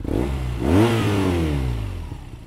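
A BMW R NineT Scrambler motorcycle with a stock Akrapovic exhaust revs close by, its engine note climbing sharply in one quick blip and then falling away over a couple of seconds.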